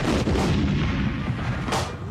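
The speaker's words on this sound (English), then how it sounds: "Cannonballs banging off his helmet." Cannonballs fire during a Takeshi's Castle game-show obstacle, loud booming blasts over a constant roar of crowd and outdoor noise, with a sharp impact near the end as a shot strikes a contestant's helmet.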